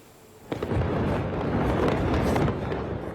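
Fireworks bursting across a city at New Year's Eve celebrations, a sharp pop then a continuous, dense rumble of overlapping explosions, loud and sustained.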